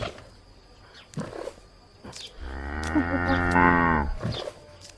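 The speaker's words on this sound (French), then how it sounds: "Il y a une vache." A cow lets out one long, deep moo lasting a couple of seconds, loud and close, with a few scattered quieter clicks and knocks before and after.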